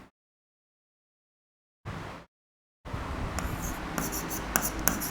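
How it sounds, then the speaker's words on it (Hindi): Writing the Hindi word nyay on a board during a political science lesson: after silence, one short stroke, then a steady run of close scratchy writing strokes with sharp squeaky accents to the end, with no talking. "न्याय जो है, पूरा लिखते हैं ऐसे"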